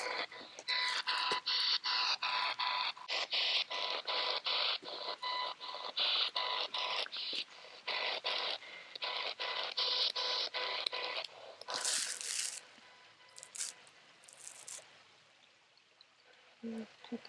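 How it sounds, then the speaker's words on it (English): Ghost-hunting communication device making funny noises. Loud, choppy bursts of scratchy static and garbled tones cut in and out rapidly, then a few higher squeals and fainter sputters near the end. "you can talk through this little device that's making funny noises"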